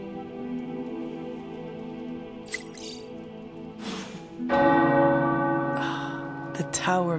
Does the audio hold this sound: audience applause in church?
no